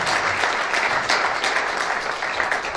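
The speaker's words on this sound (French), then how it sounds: "Vos applaudissements, s'il vous plaît" Audience applause at an award ceremony honoring a journalist, a steady dense wash of many hands clapping at moderate loudness throughout, with no voices over it.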